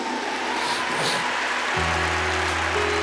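Applause from a crowd gathered at an outdoor prayer camp, a steady wash of many hands clapping that holds even throughout, with a low music or organ drone entering partway through.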